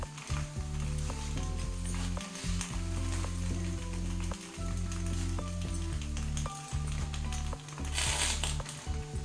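Fish wrapped in banana leaf with raw mustard oil cooking over medium heat in a pan, a continuous faint crackling sizzle beneath a loud steady low background hum throughout.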